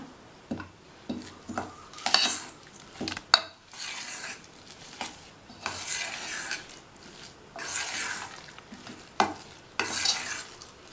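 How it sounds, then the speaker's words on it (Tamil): Rava pakoda batter with curd is stirred in a bowl, giving repeated wet scraping and clinking strokes in bursts, close and fairly quiet, with no talk. "இன்னொரு 1/4 கப் தயிர் சேர்த்துட்டு மறுபடியும் நல்லா கலந்து விட்டுறலாம்."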